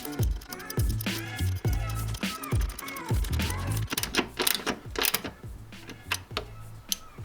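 Ratchet snugging bolts on a Subaru WRX pitch stop mount, rapid clicking bursts in quick repeated strokes with a few metallic clunks between them, close and fairly loud.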